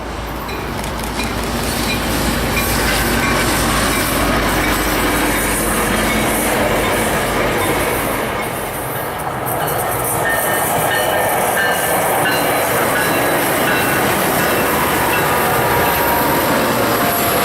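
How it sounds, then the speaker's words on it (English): Southbound Tri-Rail P681 commuter train passing at Belvedere Curve, a loud, steady rumble and rush of railcars rolling by close up, with faint wheel squeal, continuous for the whole stretch without talk. "We were in time for Tri-Rail train P681 southbound commuter"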